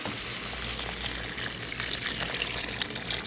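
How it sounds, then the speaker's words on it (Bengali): Boiled hot water poured into a pan of eggplant and spices cooking for an aloo-begun fish curry, a steady broadband rush of water with a soft sizzle underneath, continuous and close. "এখন এখানে ফুটানো গরম পানি দিয়ে দিব"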